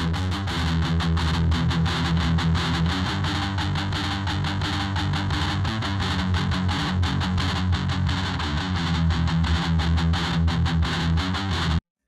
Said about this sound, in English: the saturation control adds quite a lot of bite to guitars